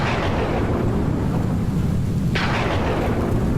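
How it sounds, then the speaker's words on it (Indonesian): Thunder during a rainy-season storm: a continuous heavy rolling rumble, with a sharper crack breaking through partway, loud and close with no speech. "Oke, petir."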